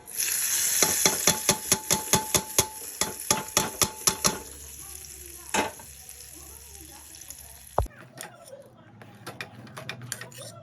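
Rapid series of sharp clicks and taps over a frying hiss as tempering spices hit hot oil, then a sudden drop to quieter scattered crackles and sizzling.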